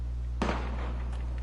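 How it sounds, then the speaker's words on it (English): A single sharp gunshot in the video game Valkyria Chronicles Remastered cracks out loud, then rings off briefly over a steady low hum. "Gunfire!"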